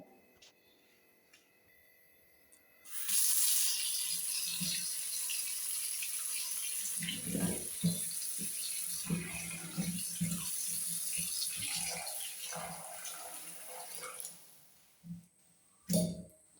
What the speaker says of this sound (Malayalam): ആകുന്നതിന് വേണ്ടിയിട്ട് കുറച്ച് വെള്ളം ഒഴിച്ച് ഇടുകയാണ്